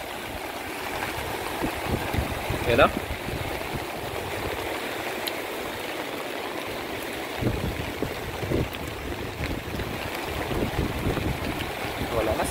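Typhoon floodwater from a swollen river surges past broken flood control in Caligayan, Tumauini, Isabela, a continuous close turbulent roar as someone speaks briefly over it.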